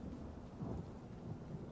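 A Harrow Storm in the video game Elder Scrolls Online sets in as a low, faint, continuous rumble of thunder over soft rain, with no talking.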